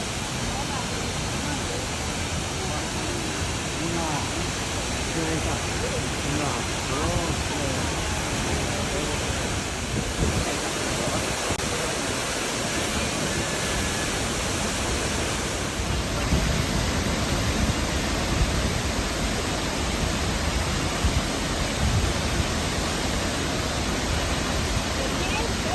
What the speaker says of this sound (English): Welcome to Misolha, definitely my favorite waterfall.